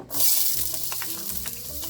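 Onions for efo riro hitting hot canola oil in a pan, a sudden loud, bright hiss that settles into a steady nearby sizzle.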